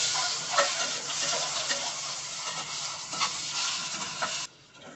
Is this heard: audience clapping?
no